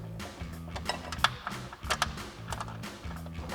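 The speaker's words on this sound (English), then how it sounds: "Run these in a bit with our 13 mil socket." Metallic ratcheting clicks in quick, uneven bursts as a 13 mm socket runs flange bolts into a middle bracket while nerf step bars are mounted on a truck. The sound is close and fairly quiet, with no voices.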